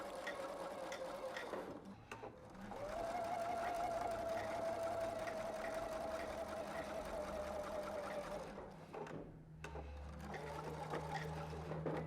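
Sewing machine back stitching binding onto knit fabric, a steady close whirring hum broken by short pauses as the stitching stops and restarts.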